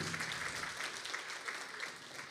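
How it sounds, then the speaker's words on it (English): At an Indigenous clean energy forum, an audience gives a steady, fairly faint round of clapping that carries on evenly throughout. "So please give Rebecca a round of applause."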